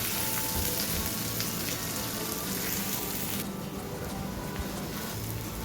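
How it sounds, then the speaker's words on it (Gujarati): Chopped onion sautéing in a pan for street-style Pune misal gives a steady, close sizzle and hiss that runs unbroken from start to finish, with no voices over it. "અને ચોપ કરેલી ડુંગળી. મિક્સ. બધાને સરસ રીતે સાંતળી દેવાનું છે."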